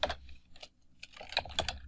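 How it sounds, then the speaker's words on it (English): Quick, uneven bursts of computer keyboard typing while code is entered, close and fairly clear, with short pauses between clusters of key clicks and no talking. "I'm just going to type again"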